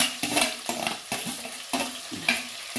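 Chopped ginger, garlic and green chilli frying in a pan, sizzling under a few quick scraping strokes of a spoon against the metal, close and moderately loud.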